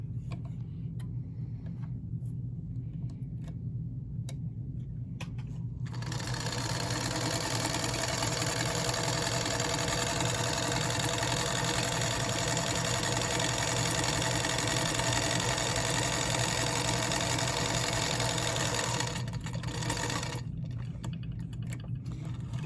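A sewing machine stitches a string-pieced quilt block on a foundation, starting after a few quiet seconds into a steady whirring hum that runs evenly for about thirteen seconds before stopping, with faint ticks around it.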